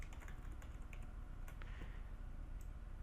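Quiet, rapid clicking of a computer keyboard as a SQL query is typed, irregular keystrokes heard close but faint over a low background hiss.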